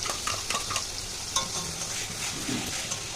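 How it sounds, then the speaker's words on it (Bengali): Ginger, garlic, onion and dry chili masala paste frying in a pan, a continuous crackling sizzle broken by sharp stirring scrapes and spatula clicks, close and moderately loud. "তো মশলাটা এবার ভালো করে কষিয়ে নেব"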